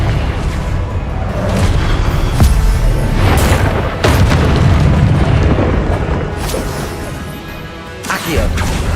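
Confringo fire spell exploding in Hogwarts Legacy, a series of loud, booming blasts and crashes that repeat in quick succession over dense combat noise.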